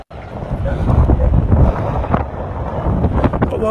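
Strong wind buffets the microphone in a steady rumbling roar, with faint voices underneath, at a fire in Parañaque City.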